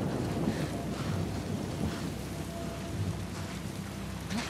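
Heavy rain falls in The Last of Us Part 2 Remastered, a dense, constant hiss of droplets with a low rumble beneath, steady and enveloping throughout with no voices.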